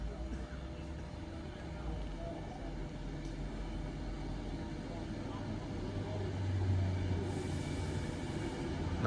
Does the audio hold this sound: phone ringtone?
no